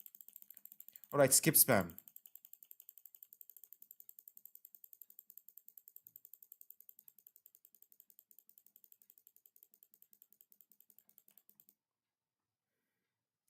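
Rapid, evenly spaced mouse clicks run steadily for about ten seconds while playing the visual novel Saya no Uta, preceded by a brief burst of speech near the start.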